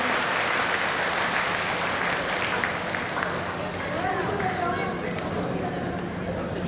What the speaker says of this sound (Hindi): आप दोनों हाथ ऊपर करके ताली बजाइए